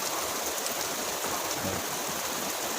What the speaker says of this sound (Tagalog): Medyo tumutulo yung aking bubong.